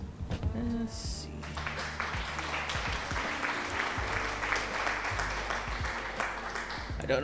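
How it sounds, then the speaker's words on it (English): A canned applause effect plays on a chill art stream, a steady, moderately quiet wash of clapping that holds evenly for several seconds with no one talking over it. "I don't know what the applause is for"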